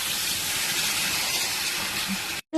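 Water poured into hot oil in a pan of spicy hybrid magur fish curry, a loud broad steam hiss that holds steady, then cuts off abruptly near the end.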